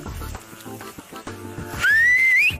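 A person whistles loudly in a long, sliding tone that rises toward the end, following a stretch of background music, with no talking over it.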